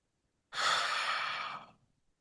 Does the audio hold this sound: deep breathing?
yes